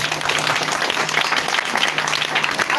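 Crowd applause at a school ceremony handing over a wash facility at a Roman Catholic primary school, dense irregular clapping at moderate level that fills the whole stretch, with a faint low hum beneath.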